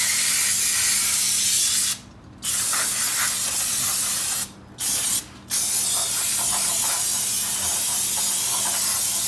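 Aerosol brake cleaner sprayed steadily onto the brakes of a GR Corolla while its wheels are swapped. A loud continuous hiss breaks off briefly three times and then resumes.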